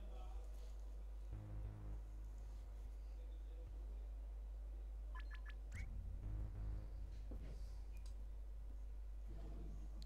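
Electronic signal tones in the To The Moon video game: a few short beeping pulses and clicks spaced across a steady low drone, with faint talk in the background.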